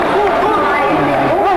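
Crowd at a boxing bout in Bangkok chattering after the decision, a steady dense babble of many voices with one voice rising clearly above the rest.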